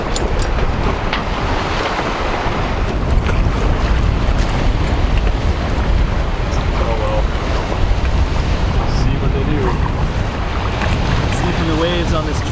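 Steady roar of surf and wind buffeting the microphone, big waves rumbling continuously on Lake Ontario with a faint voice now and then.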